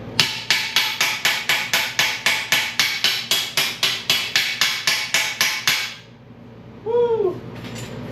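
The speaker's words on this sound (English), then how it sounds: "Let's see what a hammer does. Small hammer." Rapid, steady blows from a small hammer on a bumper, about twenty sharp metallic strikes in a row, close and loud, then stopping, followed by a brief squeaky sliding sound.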